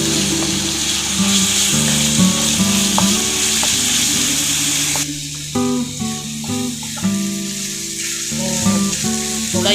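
Garlic and ginger frying in ghee, a loud, close sizzle with stirring scrapes that dips briefly about halfway, then carries on steadily.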